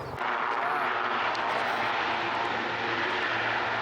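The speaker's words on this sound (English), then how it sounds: "Dang, that plane has done a swerve." An airplane passes overhead outdoors, giving a steady, broad roar that fades in and then holds at a strong level. No other clear sounds stand out above it.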